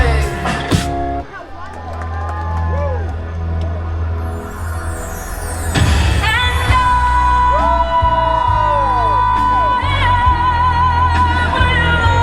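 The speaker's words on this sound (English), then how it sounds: "So what an amazing firework drone show." Loud crowd cheering and whooping over booming firework bangs and crackles at a fireworks and drone show at Dollywood, Pigeon Forge, Tennessee, with music and voices mixed in, dense and continuous.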